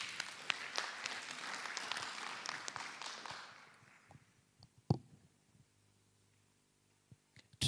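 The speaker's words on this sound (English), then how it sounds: "Let's clap for Tracy again." Audience applause at a youth pre-conference on the SDGs, steady clapping for about four seconds that fades out, leaving scattered single claps and light room noise.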